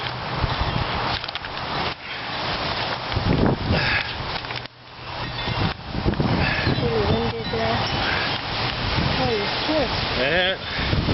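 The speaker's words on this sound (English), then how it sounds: "It's nice and windy." Gusty wind buffets the microphone outdoors while an orange mandarin tree is planted in a container garden, a steady rumble with stronger surges under people talking throughout.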